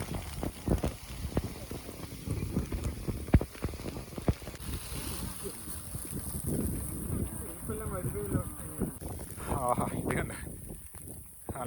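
Heavy rain pours in a steady, dense hiss during a hill trek, with gusts of wind buffeting the microphone, while people talk over it.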